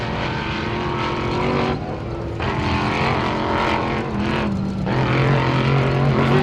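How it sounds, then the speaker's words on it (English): An off-road race car in a 4WP Every Man Challenge qualifying run roars loudly and continuously on the course, its engine pitch rising and falling with throttle changes. "Throttle down, engine roaring."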